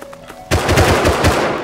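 Gunfire in the survival game Rust: after a quiet half-second, a loud burst of rapid automatic shots erupts and keeps hammering in quick succession, close and dominant, with no talk over it.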